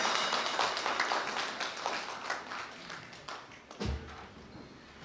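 Congregation at a church worship service clapping, a faint, uneven patter of hands with a thump near the end, fairly distant and quiet.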